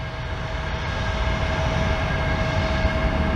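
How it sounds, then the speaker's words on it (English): A FedEx DC-10 trijet airliner passes overhead with a loud, sustained jet engine roar and a steady high tonal whine, growing slightly as it approaches. "Here comes the Fed DC-10."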